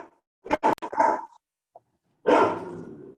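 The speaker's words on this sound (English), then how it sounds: "Trisha's dogs." Several dogs bark in quick bursts during a town council meeting, a cluster of sharp barks followed by a pause, a tiny yip, then a longer, louder run of barking, fairly close.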